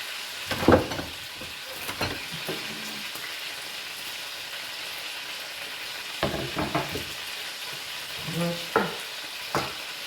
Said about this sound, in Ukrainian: Бачите, як гарно це м'ясо припікає.